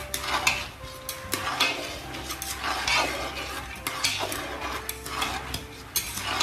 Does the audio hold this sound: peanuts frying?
yes